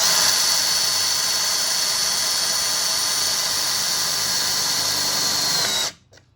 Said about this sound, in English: I can just drill it through, and I'll be able to feel it